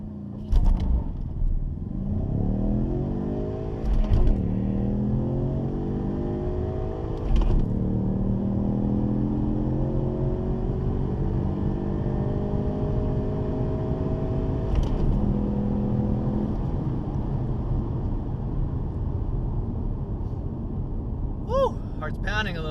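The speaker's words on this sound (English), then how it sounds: "Launch control is on. I'm going to hit the automatic start, and we're going to launch." A 2018 EcoBoost Mustang launches with launch control, engine revving hard through rising gear sweeps with shift breaks, loud and close from inside the car for about twenty seconds, a faint voice near the end.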